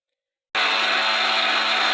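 Mixer grinder jar grinding shade-dried drumstick leaves: silence, then the motor kicks in abruptly and holds a loud, steady high-pitched whirring drone, close and uninterrupted to the end.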